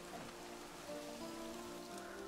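Steady rain patters on a surface in the video game Planet Zoo, a dense continuous hiss with faint tonal hum beneath, no voices.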